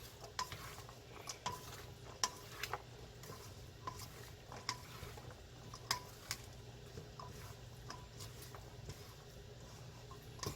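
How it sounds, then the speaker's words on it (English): Greek rice salad being stirred in a large bowl: a faint, steady run of spoon clinks and scrapes, irregular and close by, with no voices. "now let me give that a good mix."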